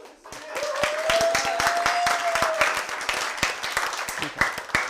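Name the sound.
audience applause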